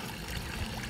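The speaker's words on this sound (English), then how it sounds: "I had to add water to the pool because it was low" Water runs from a hose into a backyard swimming pool, a soft, steady trickling wash heard faintly and without pause.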